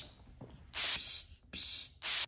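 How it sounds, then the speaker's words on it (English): Perfume spritzed from a small bottle, heard as three close, sharp hissing bursts, the first two long and the last one short, over a quiet background. "Okay, Jenna, I'm gonna spray you with some perfume"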